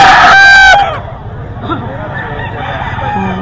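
An 11-month-old stag, a young gamecock rooster, at a poultry market in Bocaue, Bulacan, crows once loudly and close in a short harmonic call, followed by a quieter background with faint bird calls and murmuring.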